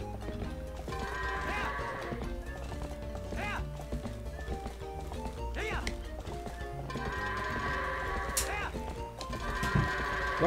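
Goats bleat and horse hooves clip-clop while the goats are herded into a barn in the video game Zelda: Twilight Princess, with game music throughout and a voice talking over it.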